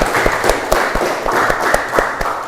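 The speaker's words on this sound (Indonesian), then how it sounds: "berikan aplaus untuk kelompok 3" A small group gives applause for a student team, a steady patter of many hands clapping with sharper individual claps standing out, close and fairly loud, with no talking over it.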